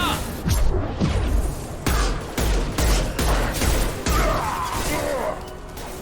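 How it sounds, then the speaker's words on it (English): Heavy gunfire in the Mass Effect 2 game, a run of loud, closely spaced rifle blasts and impacts in a dense battle mix, with voices briefly underneath. "Firing a high-impact shot."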